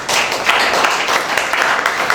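Audience applause at a charity foundation event for physically challenged people: dense, steady clapping from a crowd, loud and close, sustained throughout.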